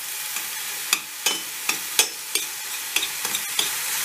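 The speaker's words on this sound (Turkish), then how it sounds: "Şöyle bir güzel kavuralım." Minced meat and chopped green peppers sautéing in a pan for a Turkish egg dish, with a steady sizzle and a spoon scraping and stirring in sharp, irregular strokes, close up and with no voices.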